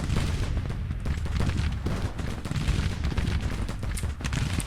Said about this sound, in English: Listen to that peppering of gunfire.